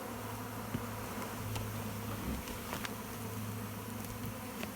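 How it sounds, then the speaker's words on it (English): Swarm of bees moved between hive boxes outdoors, buzzing in a steady low drone throughout with scattered nearer passes of individual insects, no talk. "That was a ton of bees."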